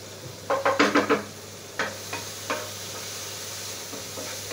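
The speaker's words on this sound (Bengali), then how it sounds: "চিংড়ি মাছটা ভেজে নিচ্ছি।" Oil sizzles steadily as prawns fry lightly in a pan while a utensil clacks and scrapes several times in quick succession, then a few slower stirs over the continuous hiss.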